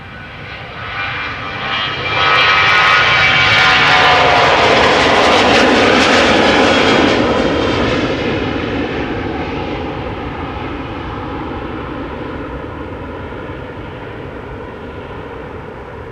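A 23-year-old Boeing 737-800 roars past at Amsterdam Schiphol, its jet engines swelling into a loud broad rush with whining tones, then slowly fading to a steady distant rumble.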